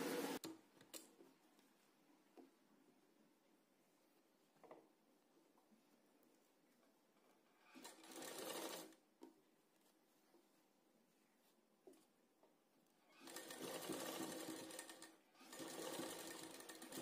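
Sewing machine stitching a boat neck blouse in a tailoring session, running in three loud bursts of about a second or two each, separated by quiet gaps with faint handling ticks and soft clicks.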